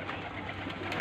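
A pigeon coos softly amid a steady background hum, brief and faint.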